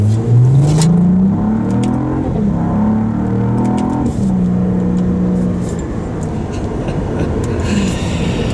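A 2022 Cadillac CT4 V-Blackwing sports sedan pulls away from a green light at full throttle, its engine revving loud and close through rising gears with brief dips at each shift.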